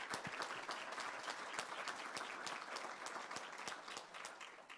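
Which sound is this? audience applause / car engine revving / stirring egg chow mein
audience applause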